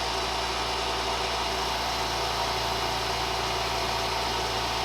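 A 4.2 mm carbide end mill cuts bronze at about 1700 RPM on a South Bend Heavy 10 or Hardinge DSM59 setup, making a loud, continuous whirring hiss with a steady machine hum throughout.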